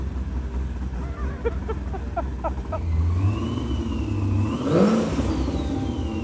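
An 840-horsepower Trans Am car engine revs up and rumbles, the pitch rising and falling as the exhaust roars at close range.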